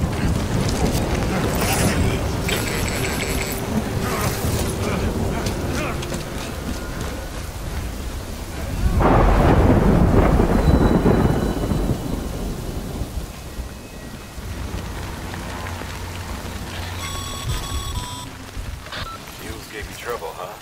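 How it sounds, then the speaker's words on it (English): A thunderstorm in the video game Death Stranding brings steady heavy rain and a deep rolling thunder surge midway. Character voices speak over the downpour. "Good thing it was raining."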